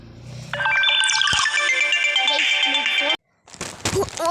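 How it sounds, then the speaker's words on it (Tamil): A phone ringtone plays loudly and close by as a bright electronic melody for about three seconds, then cuts off abruptly before brief other sounds follow. "ஒன்றும் இல்லை கைஸ், ஒரு ஃபோன் தான்."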